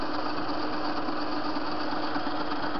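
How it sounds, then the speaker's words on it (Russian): A TV-16 lathe's three-phase motor, running on a capacitor with one winding working, hums steadily with a machine whir, continuous at an even pitch, close and unchanging. "Мотор тут трехфазный"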